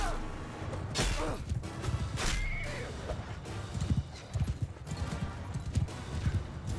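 Horses gallop across a battlefield in Mount & Blade II Bannerlord, with rapid, uneven hoof clip-clops, several neighs and whinnies, and scattered combat thuds and whooshes throughout.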